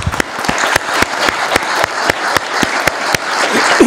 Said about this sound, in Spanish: Aplaudamos vuestro logro.